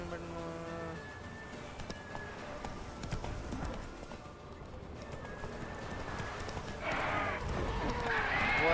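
Hooves of a galloping horse in The Witcher 3 thud in quick repeated clip-clop under game music and someone talking, growing louder and busier toward the end.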